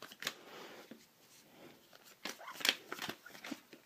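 A deck of trading cards is shuffled by hand, producing soft riffling and flicking bursts in an irregular rhythm, close and fairly quiet.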